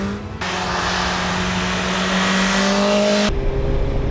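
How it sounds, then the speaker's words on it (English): A 2021 BMW S1000XR motorcycle engine drones at high revs while riding, with a clear drop in pitch and loudness near the end suggesting a quick-shifted gear change; wind rush runs underneath and no one speaks. "Quick shift is very smooth,"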